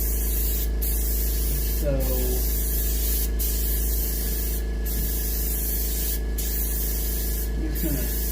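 An airbrush sprays a light to medium coat of yellow paint onto a muskie fish mount in short repeated hissing bursts over a steady compressor hum, with someone talking quietly over it.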